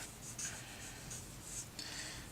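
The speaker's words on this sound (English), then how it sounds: "So I can write that down." Pen or marker writing by hand on a surface, a faint, close scratching with short strokes and brief pauses.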